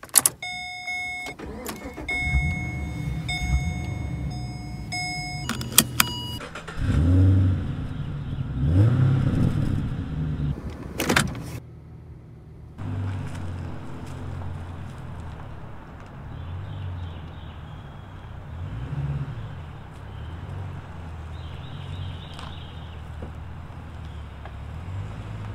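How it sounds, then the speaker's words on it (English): A 2011 Chevy Caprice PPV police car starts up: a few sharp clicks and a brief crank, then the engine catches and revs, settling into a low idle and driving hum, close and without talk. "Let's start her up and go for a drive."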